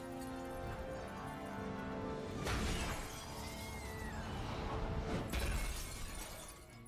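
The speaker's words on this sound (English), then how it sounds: "He breaks free, smashes a window" Window glass shattering in a superhero movie action scene, two sharp crashing bursts of breaking glass over a dense, loud soundtrack of rumbling effects and music, with no dialogue.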